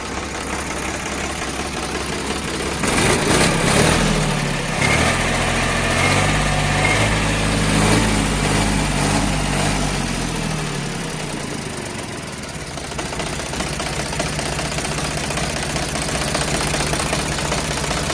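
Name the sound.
Sonalika DI 42 RX tractor engine idling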